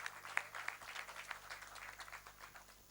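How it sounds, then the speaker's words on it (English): Conference attendees give a round of applause for Professor Jain, soft and distant clapping that holds steady for a few seconds at low volume. "A big round of applause for Professor Jain"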